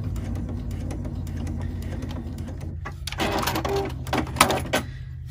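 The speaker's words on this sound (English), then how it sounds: "I have to remember to backstitch here" Home sewing machine backstitching a seam on a fabric infinity scarf, first a low steady motor hum, then a burst of faster, louder mechanical stitching and clicks toward the end, close by with no talking.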